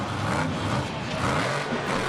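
Monster Mutt Rottweiler monster truck at a Monster Jam freestyle show in Anaheim, its engine revving loud and steady in a brief roaring burst.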